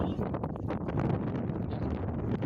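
Strong wind buffets the microphone in a continuous loud roar with gusty rumbling, and nothing else stands out over it.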